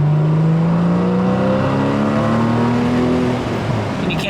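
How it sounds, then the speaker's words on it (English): A Porsche 981 S with an Agency Power catback exhaust pulls at partial throttle. The exhaust note is loud and close, a smooth tone climbing gradually in pitch over several seconds before easing off near the end. "This exhaust really shines in partial throttle environments."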